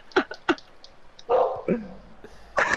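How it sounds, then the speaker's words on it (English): A pet dog barks in sharp yips and whimpers at home, several quick bursts near the microphone, while someone talks over it during a FIFA 19 match. "Your dog's gone mad."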